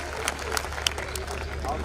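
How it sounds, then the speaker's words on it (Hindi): Audience applause at a Hindi kavi sammelan poetry gathering, a steady wash of clapping from a crowd filling the whole stretch, with light crowd murmur underneath. "एक बार आप तालियां बजा दें,"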